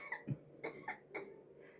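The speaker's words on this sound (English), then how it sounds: "How long have you had that cough" A few short, quiet coughs from one person nearby, spaced out over a couple of seconds with no other sounds.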